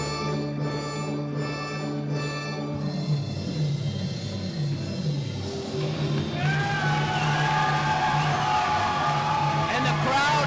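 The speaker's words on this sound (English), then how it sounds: "And the crowd erupts" A wrestling crowd at an IWE event cheers and whoops loudly, the roar swelling and growing denser partway through, with a commentator's voice running over it.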